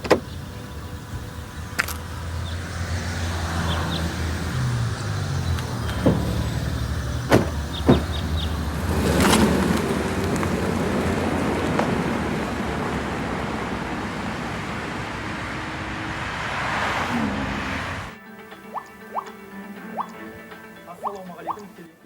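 A car's engine and road noise hum steadily from inside the cabin, with occasional clicks and knocks, before dropping to a quieter interior near the end; no talking.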